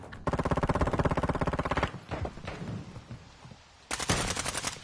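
Rapid automatic gunfire in Call of Duty Modern Warfare 2, a loud sustained burst of evenly spaced shots, then a short gap with scattered noise before another burst starts at the end.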